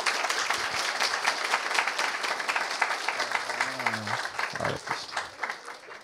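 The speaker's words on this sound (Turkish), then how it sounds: "O yüzden kendinize koca bir alkış." A stand-up comedy audience claps warmly, a steady mid-loud patter of many hands lasting throughout. A voice speaks briefly over the applause near the end.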